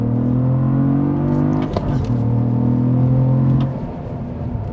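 Cadillac CT4-V Blackwing sport sedan accelerating hard, a loud steady engine drone heard from the cabin, rising through the gears with a brief shift break before easing off near the end.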